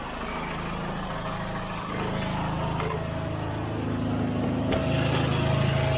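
The engine of a Land Rover Series III 88 idles with a steady, loud, low drone and a fairly rough, noisy tone, rising slightly in level partway through, with no talk over it.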